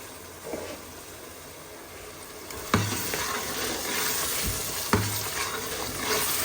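Continuous frying sizzle of masala tempering in a pan, punctuated by two sharp scraping stirs, close and steady without any talking.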